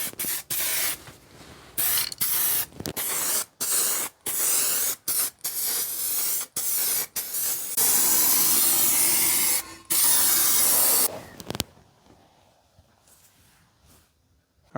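Epoxy coating is sprayed onto a Nissan Gloria in short repeated aerosol bursts, with loud close hissing broken by brief pauses and two longer sprays before quiet.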